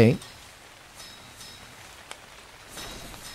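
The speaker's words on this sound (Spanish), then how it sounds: "Se puso a llover, ok." Rain falls in the video game ARK: Survival Evolved, a soft steady hiss with faint patter that follows a brief sound at the start.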